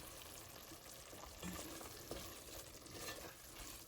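Egg curry bubbles and sizzles in a pan, a faint, steady frying hiss with small crackles and occasional stirring scrapes, no voices.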